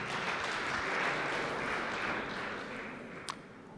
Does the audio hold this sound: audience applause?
yes